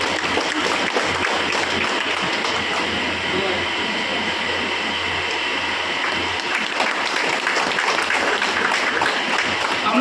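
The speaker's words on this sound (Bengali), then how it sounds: "একটু জোরে হাততালি দেবেন সকলে।" A crowd at a village panchayat inauguration ceremony applauds loudly in a dense, continuous wash of clapping that holds steady for about ten seconds.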